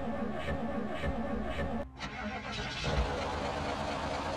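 A car engine cranks and starts in the zombie survival game Project Zomboid, a steady mid-pitched engine hum running under game ambience with a brief cutout before it settles into idling.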